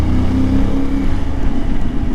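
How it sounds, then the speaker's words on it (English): A CFMoto IBEX 450 motorcycle with a 270-degree crank rumbles close by in a loud, steady, throbbing engine note with a V-twin-like lope, no voices over it. "The IBEX has an incredible engine sound."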